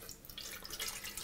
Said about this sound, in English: 2 gallons of water in the pot.